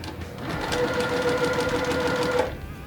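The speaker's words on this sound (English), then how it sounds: "I've sewed down each side" Sewing machine stitching down the side of quilt half square triangles, a steady continuous mechanical whir running close and fairly loud for nearly the whole stretch, with no talking.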